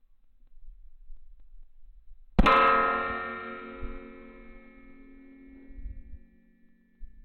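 A bullet strikes a Shoot Steel silhouette steel target with a single sharp metallic clang that rings on and slowly fades, heard alone against quiet surroundings.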